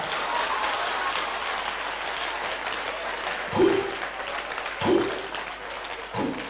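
An audience at a live road show applauds in a sustained patter of clapping, with a few louder thumps near the end, heard at moderate distance.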